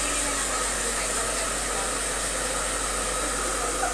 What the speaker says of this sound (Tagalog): Binoblower na niya ang ating hair.